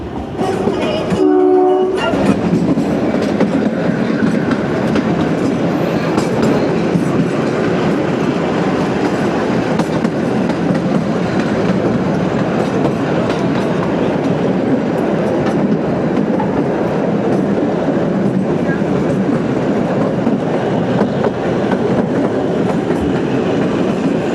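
The Kalka–Shimla heritage toy train rumbles along the mountain railway, a loud continuous rolling clatter of wheels and carriages heard close from on board, with a short horn-like blast near the start.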